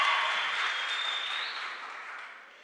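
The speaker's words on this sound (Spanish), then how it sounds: "Aplausos para Gisela." Audience at a regional oratory contest applauding a student speaker, a smooth wash of clapping that starts fairly strong and gradually fades away.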